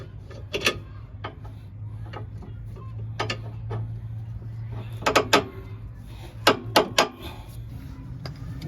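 A Honda Element with a torn part underneath makes irregular clunking and tapping: scattered metallic knocks, some in quick clusters, over a low steady engine hum.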